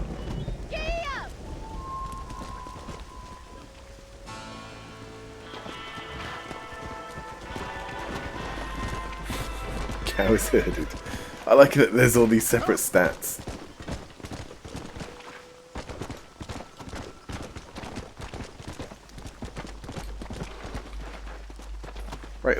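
Horse hooves clip-clop in Red Dead Redemption, a steady walking beat over light rain and ambient game sound, with someone talking over much of it.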